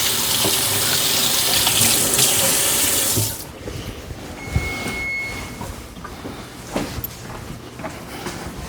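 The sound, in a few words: water running from tap while rinsing hands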